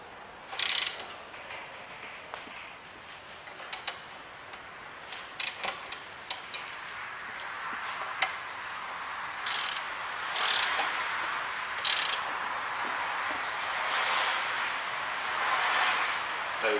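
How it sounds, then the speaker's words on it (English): A ratchet tightens a track rod on a Land Rover Freelander, giving close, dry clicking bursts in irregular runs over a steady workshop background. "So you always want to tighten it with a ratchet."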